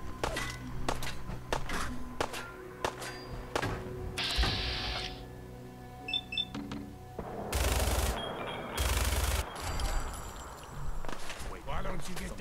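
Gunfire in Fallout 4, bursts of shots and sharp cracks spread through the stretch, with loud blasts midway, mixed with game ambience and voices talking.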